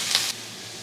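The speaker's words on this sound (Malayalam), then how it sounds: "ഇതൊന്ന് വഴറ്റി കൊടുക്കാം." Garlic and onion sauté in a hot pan for a broccoli and potato ularthiyath side dish, giving a brief, close, bright sizzle that flares loudly for a moment, then settles into a steady, softer hiss.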